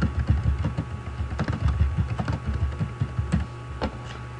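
Computer keyboard keys clack in quick, irregular bursts while a name is typed, close and clear with brief pauses between keystrokes.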